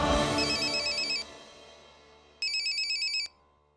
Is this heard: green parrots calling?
no